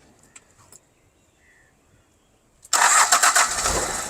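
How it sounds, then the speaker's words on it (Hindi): A Fiat Uno 1N turbo diesel car engine cranks briefly after a quiet pause, then catches and settles into a loud, close, steady diesel idle with a rough clatter. "स्टार्टअप तो ज़रा सुनवा दें इसका। डीजल आपको पता है फिर, डीजल डीजल है जी।"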